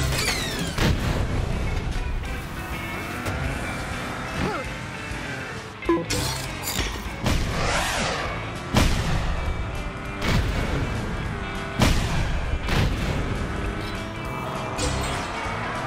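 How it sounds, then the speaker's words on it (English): Rockets firing in the Cars 3: Driven to Win racing video game, repeated booms and blasts over dense engine roar and game music, with an energetic announcer voice talking throughout. "Rockets in the air!"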